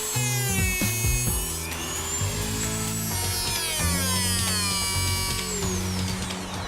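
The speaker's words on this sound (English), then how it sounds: "use a metal cutting tool on just a regular Dremel" A regular Dremel with a metal cutting wheel cuts kitchen tile, a continuous high rotary whine with shifting pitch and grinding rasp throughout, close and loud with no talk.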